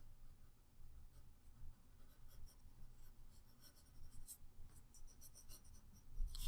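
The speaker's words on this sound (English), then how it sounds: "basically we just want to draw the tree shape coming off in this direction." Pencil drawing on paper, tracing a tree's cast shadow shape, a steady soft scratchy rasp with quick repeated strokes, close and quiet, with no talking.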